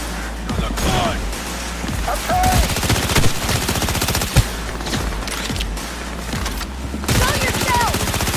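Heavy video game gunfire in Cyberpunk 2077, sustained bursts of rapid automatic shots with sharp cracks and impacts, loud and close, with shouted voices mixed in.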